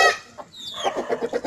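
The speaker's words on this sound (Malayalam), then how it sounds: "ഇത് എൻ്റെ വീട്ടിലെ പൂവൻ കോഴികളാണ്." A backyard rooster gives a short run of close, loud clucks: one burst, a brief pause, then several quick clucks in a row.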